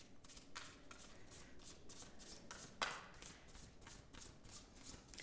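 Tarot cards being shuffled by hand in a steady run of soft riffling bursts, one sharper snap near the middle, close and fairly quiet.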